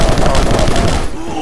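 A shotgun in the game Rocketbirds: Hardboiled Chicken booms in a quick, loud, close barrage of blasts that fade out near the end.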